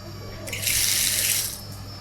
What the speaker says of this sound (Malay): Sini pun ada singki.